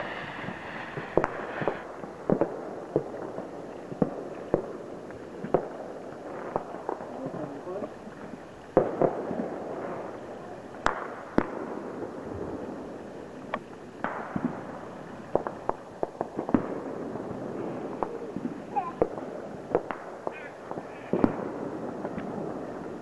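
Fourth of July fireworks crackle and pop throughout, a steady stream of sharp bursts and spark hiss at moderate distance over a low background rumble, with occasional talk nearby.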